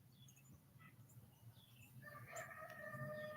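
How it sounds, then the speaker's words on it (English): A rooster crows outdoors in a rural yard, a clear harmonic call rising over steady background hum in the second half, fairly close and moderately loud. "Oh, there's the rooster."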